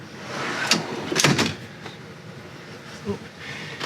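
A storage drawer in a 2018 Allegro RED 37PA motorhome slides open sideways with a sharp clack and a scraping rumble of its tracks, followed by a softer knock, close and clear over quiet room noise.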